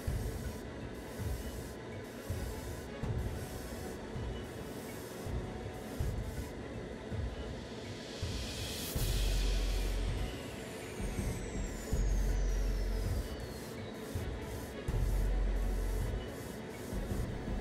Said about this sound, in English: 2 thin coats of this clear coat will be enough to provide great protection and crazy scratch resistance